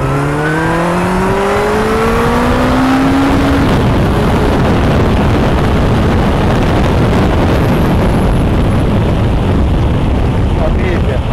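A Honda CB1300SF motorcycle engine climbs through its revs as the bike accelerates. The pitch rises in steps with each gear change, then settles into a loud, steady roar with heavy wind rush throughout.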